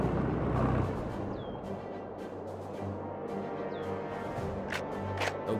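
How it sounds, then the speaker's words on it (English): Cannon fire in the World War Armies mobile war game: several sharp booming shots go off at irregular intervals over a constant rumbling battlefield background, with no speech. "Cannons, fire!"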